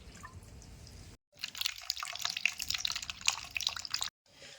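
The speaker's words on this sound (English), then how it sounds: "Once the water inside is full, it will come out from the water overflow hole." Water runs and drips as it spills from the overflow hole of a black fractional CO2 laser machine during filling, a steady splashing trickle broken by two brief gaps, close and moderately loud with no talking.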